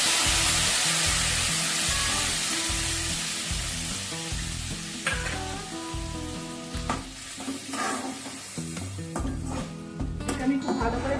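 Onion, ginger, garlic and chili paste hitting hot oil with cinnamon, cardamom and cloves for a Bengali prawn malai curry: a loud sizzle that slowly eases, broken by utensil clinks and scrapes.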